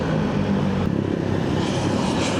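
A propeller airplane passes overhead with a loud, steady engine drone and a broad rushing rumble. It holds fairly even throughout.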